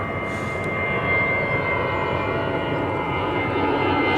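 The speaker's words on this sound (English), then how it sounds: "another plane's coming" An airplane passes overhead above a carp-fishing lake, a steady, loud engine drone that fills the whole clip with no voices over it.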